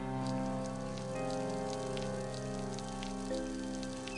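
A plant being watered in the video game Viva Pinata, a soft rain-like patter of sprinkling water running steadily under continuous game music.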